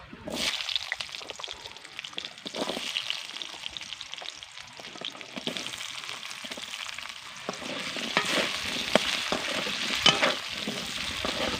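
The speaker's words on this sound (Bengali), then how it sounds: "আলুগুলোকে ভেজে নেব" Potatoes frying in hot oil in a pan after fish, a dense continuous sizzle with occasional stirring scrapes, close and steady, no talk.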